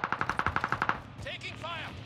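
Rapid automatic gunfire in Call of Duty: Modern Warfare, about a dozen evenly spaced shots in a quick burst lasting about a second, followed by a voice talking.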